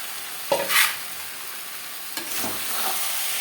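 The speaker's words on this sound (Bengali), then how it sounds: "মশলার সাথে আলু ফুলকপি বেশ ভালো করে মিক্স করে দেবো" Boiled potatoes and cauliflower being stirred into fried spice paste for a tilapia fish curry, a low steady sizzle with two brief spatula scrapes and clatters, near and without talk.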